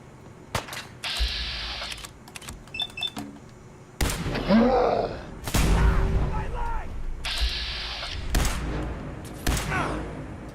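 Gunfire in the video game Fallout: several bursts of sharp shots and rattling volleys come in separate clusters, loud against quieter gaps, with a voice speaking briefly between them.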